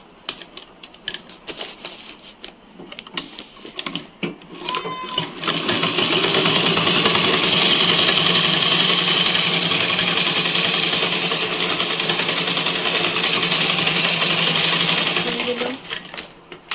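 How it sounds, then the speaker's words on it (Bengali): A sewing machine stitching ribbon ends together: a few short clicks and stop-start taps, then a loud continuous rattling run of about ten seconds close by before it slows and stops. "এখন কাটার পরে এদিকে সেলাই করে জয়েন দিয়ে দেবো"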